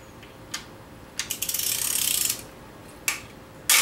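A ratchet wrench clicks in short bursts while loosening a tight bolt on a BMW N54 engine's cam and VANOS assembly, with a quick run of rapid clicks in the middle and isolated louder clicks around it, close and without talk.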